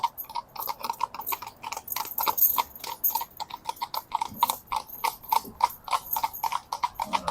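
Steady clip-clop of horse hooves striking a hard road surface, a brisk continuous rhythm close by with no talking.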